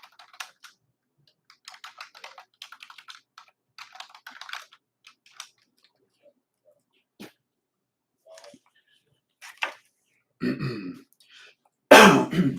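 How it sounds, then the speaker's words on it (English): A single rough throat clearing near the end, following scattered quiet keyboard tapping and a few faint clicks. "Sorry about that. I clear my throat."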